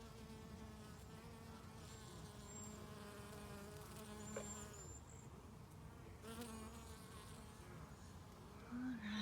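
Bees and other insects buzz steadily around tall flowers in a summer garden, a continuous close hum with a few louder passes, and no voices.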